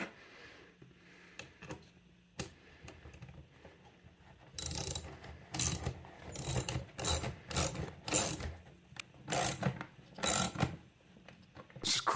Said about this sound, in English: Screws in there, they're just like biting the back of the plastic